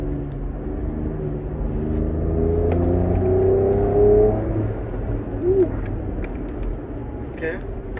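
Ford Ranger Raptor pickup on a race track in Zimbabwe, its engine droning and rising in pitch as it accelerates, heard from inside the cabin with some faint chirps and clicks.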